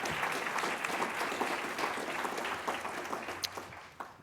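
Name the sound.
applause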